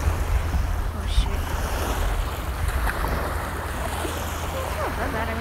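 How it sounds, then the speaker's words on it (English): Ocean waves washing onto a rocky beach, a continuous rushing surf mixed with heavy wind buffeting the microphone, with faint voices in the background. "But then there's this, the little ocean."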